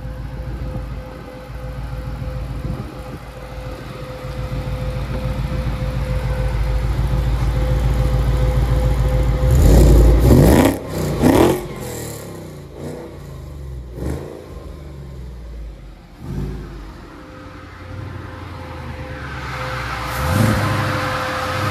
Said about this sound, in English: can you get in and give me some revs so I can get some videos out here